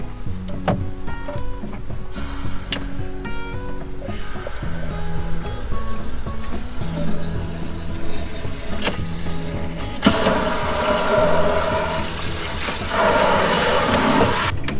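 Water runs steadily from the shower faucet inside a travel trailer, a continuous broadband hiss that grows louder and brighter partway through, with faint clunks and handling noises in the small enclosed space.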